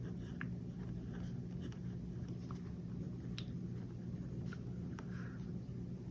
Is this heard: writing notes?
yes